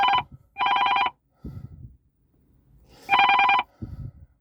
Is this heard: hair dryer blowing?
no